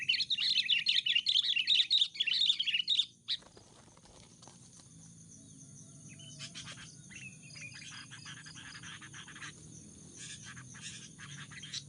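A sooty-headed bulbul, or kutilang, being trapped on the ground chirps loudly and rapidly for about three seconds at close range, then falls quiet against a steady outdoor background with faint insect-like buzzing.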